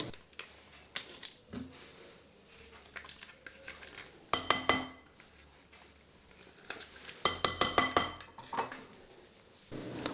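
Chocolate cookie dough being mixed in a bowl, with cocoa powder and chocolate dessert cream added, heard as bursts of rapid spoon or whisk clatter against the bowl separated by quieter pauses.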